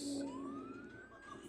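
A police siren in the Roblox video game wails with a smooth rising sweep, fairly faint and distant, over a background of game noise and soft talk.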